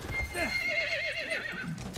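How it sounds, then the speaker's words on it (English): Horse in the Battlefield 1 video game neighing in a clear, wavering whinny lasting about two seconds, close and fairly quiet, with faint hoof clip-clop beneath. "Come on, horse."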